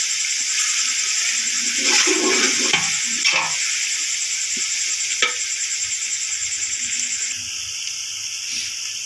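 Soaked dried fenugreek leaves (kasuri methi) sizzle and fry with potatoes in a pan, a steady loud hiss with stirring scrapes around the first few seconds and a brief clatter near the middle.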